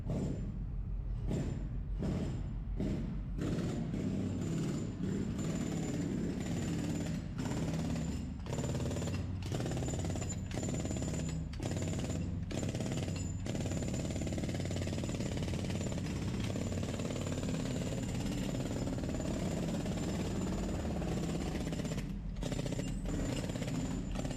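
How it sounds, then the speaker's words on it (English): A concrete breaker hammers at the head of a concrete pile on a road and bridge construction site, firing in loud, rapid bursts separated by short pauses, with a steady engine drone underneath throughout. "Use a concrete breaker to further break down any remaining large pieces."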